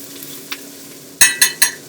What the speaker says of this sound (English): our garlic and ginger and continue stirring this